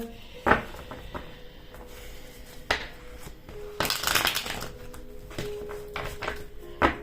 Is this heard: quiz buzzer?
no